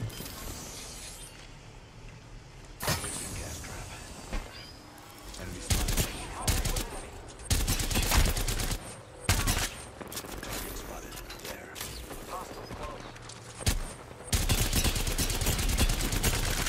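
Apex Legends gunfire erupts in several separate loud bursts and sustained sprays of shots across about seventeen seconds, some short and some long, with a voice talking between and under the firing.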